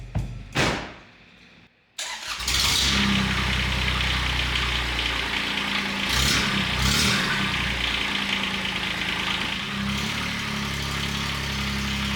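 Kubota diesel engine fitted in a Saturn SC1 car cranks and fires on its first start, then settles into a loud, steady clattering idle close by, with a rough diesel knock running throughout.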